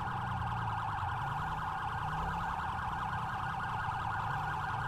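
A police car siren in the video game GTA 5 wails continuously, a steady electronic warble over a low rumble, loud and unbroken for the whole stretch.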